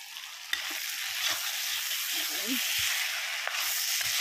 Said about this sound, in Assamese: কি ধুনীয়া তেল বিৰিঙিছে